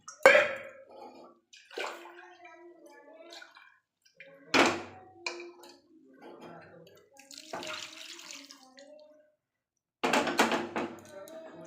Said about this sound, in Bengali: ওই প্রেসার কুকার ধুয়ে আমি আর একটু জল দিয়ে দেব